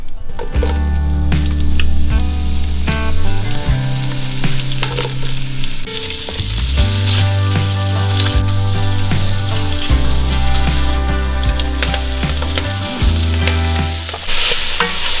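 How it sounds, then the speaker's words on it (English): Sausage browning in olive oil in a pan, a loud, close, continuous sizzle and frying crackle with wet squishing stirs, set against steady sustained music tones and no talking. "I'm gonna add a little bit of olive oil to the bottom, and we're just gonna brown up our sausage for 2 or 3 minutes"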